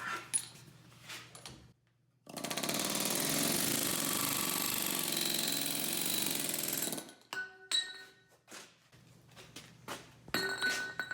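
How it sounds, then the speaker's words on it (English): A loud, continuous pneumatic air hammer rattles for about five seconds while taking apart a golf cart's suspension. Clanks and shop noise come before and after it. "the favorite tool of Talbot Industries, the air hammer"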